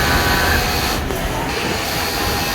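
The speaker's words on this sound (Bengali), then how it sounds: "এই যে ওভারলকে কাজ হচ্ছে। দেখো, এটা ওভারলক মেশিন।" Overlock sewing machine running in a garment factory, a steady dense mechanical whir that fills the whole stretch at constant loudness with no voices.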